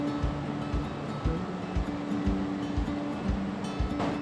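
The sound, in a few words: Wangapeka River flowing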